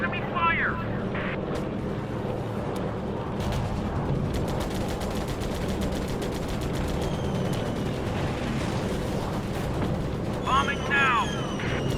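Enemy gunfire and bombing explosions in the Air Conflicts Pacific Carriers video game at Midway, a continuous rumbling barrage with scattered sharp bangs, loud and dense throughout, with a brief whistling sweep near the end.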